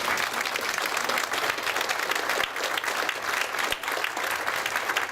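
A church congregation claps in unison for several seconds. The applause is steady and loud, with a couple of brief dips.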